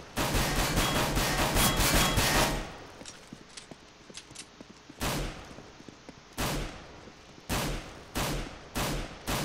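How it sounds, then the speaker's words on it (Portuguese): Gunshots in the game CS:GO, played on Intel HD Graphics 4400: a dense rapid burst of automatic fire, then a quieter stretch and a string of separate sharp shots in short clusters, loud and close, with no talking. "Simular uns tiros aqui."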